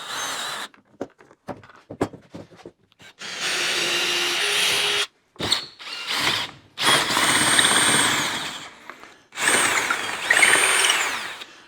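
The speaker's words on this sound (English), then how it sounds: "So now I'll drill a hole through here." A power drill bores a hole through a wooden workbench for a bolt, sounding as close, loud whirring bursts of varying length separated by short quiet pauses and brief handling noises.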